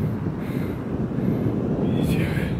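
Steady low rumbling wind buffeting the microphone outdoors in the mountains of Tenerife, continuous and fairly loud throughout, with a faint hiss rising briefly near the end.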